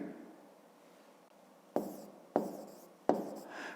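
Pen strokes on paper while writing out a number in a maths exercise: three short, sharp scratchy bursts, each fading quickly, close and fairly quiet over a faint room hush, with no talking.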